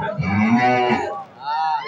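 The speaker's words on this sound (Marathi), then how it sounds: "गाई वासरांच्या गोठ्यामध्ये हंबरणे" Cows and calves lowing inside a cowshed at daybreak: two long, drawn-out moos, close and loud, the second following a brief pause, with no talk.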